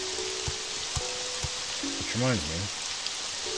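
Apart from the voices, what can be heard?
rain falling in a video game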